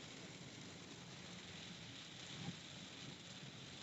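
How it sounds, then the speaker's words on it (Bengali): Heavy rain pours down on the road during a drive, a dense, even hiss that stays faint and unbroken throughout, with no talking. "বৃষ্টি এত পরিমাণে বৃষ্টি হইতেছে"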